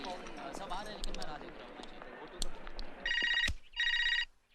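A telephone rings twice in a home, two loud bursts of electronic ringing near the end, after a stretch of talk and movement, with people speaking before the rings.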